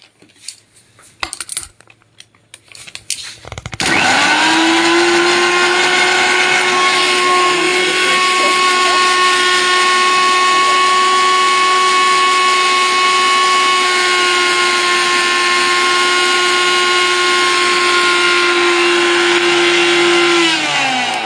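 A mixer grinder grinding a coarse spice paste: after a few rattling clicks and taps, the motor starts with a loud, steady whirring whine that holds evenly to the end, with no speech.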